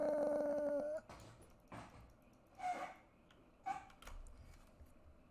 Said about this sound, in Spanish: Escuché como un perro llorar o algo así.